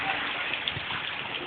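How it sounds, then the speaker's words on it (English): Rain falls in Las Vegas during a September afternoon shower, a steady dense hiss of drops on surfaces close by, with a voice murmuring faintly beneath it. "Yeah, rain in Vegas."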